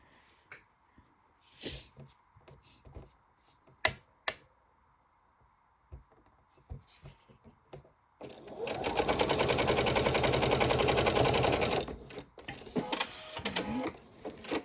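Fabric pieces handled and set in place with soft taps and rustles, then a sewing machine runs a steady, fast whirring stitch for several seconds while joining quilt pieces, stopping with a few further handling clicks.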